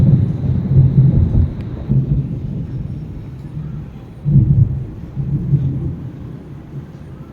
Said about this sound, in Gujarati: વરસાદ તો બંધ થઈ ગયો પણ હજુ વાદળા ગરજ જોરદાર અને થોડી થોડી વીજળી થાય ક્યાંક ક્યાંક